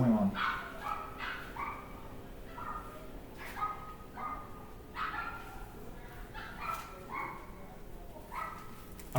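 Dogs bark outside, several sharp yips and barks repeating at irregular intervals, somewhat distant and moderately loud, with a low steady hum underneath and no speech.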